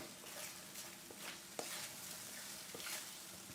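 A pan of eggs frying gives off a quiet, steady sizzle with soft crackles and occasional pops, with no talking.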